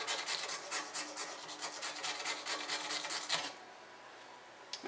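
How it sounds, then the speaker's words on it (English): A scalpel blade is scraped back and forth across a surface to dull it, producing a rapid, close raspy rubbing for about three seconds before falling quiet. "we've got the scalpel here. We want to dull it down. We usually just scrape it across here."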